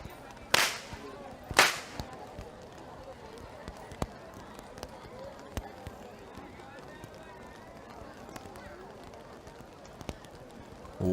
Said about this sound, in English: Walking up front with the sound of thundering whips piercing through the skies are the whip crackers